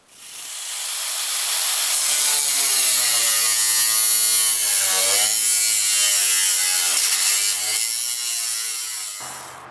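A 4.5-inch angle grinder with a cutting blade slices through metal during a racing mower rebuild. The close, loud whine with hiss spins up and holds for several seconds, its pitch wavering as the blade bites, then cuts off.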